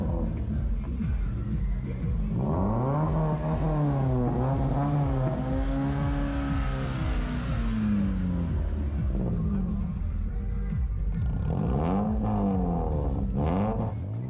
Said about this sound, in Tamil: இதோட எக்ஸாஸ்ட் நோட்டும் வந்து சூப்பராக இருக்குது, அதையும் கேளுங்க.